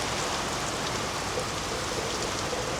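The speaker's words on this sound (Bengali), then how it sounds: "বৃষ্টির পরিমাণও হিউজ" Heavy storm rain pours down steadily on a small farm with poultry houses, a dense and constant hiss with no breaks and no voices.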